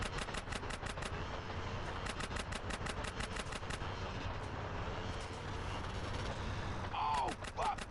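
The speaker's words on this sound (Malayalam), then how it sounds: "വെടിവെക്ക് വെടിവെക്ക് വെടിവെക്ക്." Rapid bursts of automatic gunfire in the video game GTA San Andreas, repeated volleys of dense shots over continuous game noise, with a brief tonal sound near the end.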